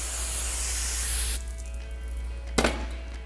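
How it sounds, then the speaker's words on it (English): A close aerosol can of brake cleaner hisses in one sustained spray onto a Mustang GT brake surface, then cuts off, followed by a quiet pause and a short sharp burst near the end. "We'll go ahead and spray that down with our brake cleaner."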